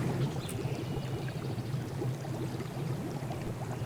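Water runs steadily from a pipe tap in Ark Survival Evolved, a close, even pouring stream with a low burbling undertone that holds at one level throughout with no voices.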